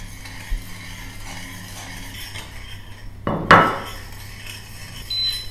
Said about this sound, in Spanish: a medida que vais removiendo, se disuelve completamente